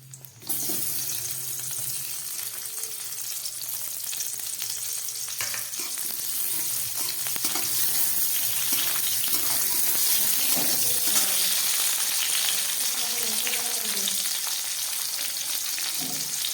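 White oil sizzling in a kadai on the stove, a steady broad hiss that holds evenly throughout, close and moderately loud, with a few faint clinks and stirring sounds underneath.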